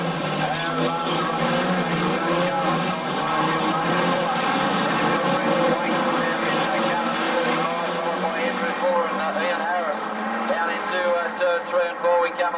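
Street stock race cars roaring around a dirt speedway during a title feature race, a loud continuous wash of engine noise with a commentator talking over it throughout.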